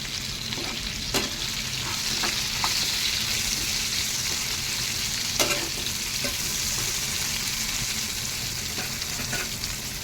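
Taro and potatoes fry in a pan with a continuous loud sizzle, while occasional sharp scrapes and knocks of stirring cut through at irregular moments, close up with no talk.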